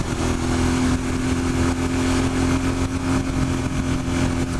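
A motorcycle engine drones steadily in second gear as the rider eases off the clutch, a loud, continuous mid-pitched hum with wind noise and no break.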